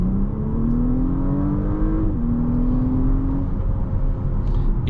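An Audi S5 Avant engine in dynamic drive mode with its exhaust valves open, a loud steady drone whose pitch climbs gradually, dips briefly, then rises again as the car accelerates.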